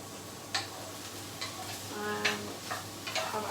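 Onions frying in a pan on a small home kitchen stove, a soft steady sizzle broken by a few sharp ticks and clicks of utensils against the pan, with an extractor fan humming underneath.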